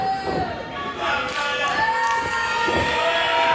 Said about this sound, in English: Snaps him over with the suplex.